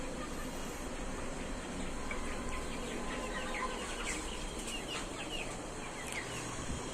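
A flock of tiger chickens clucks and chatters in a busy, overlapping murmur, fairly faint and spread out, with scattered sharper calls over a steady background.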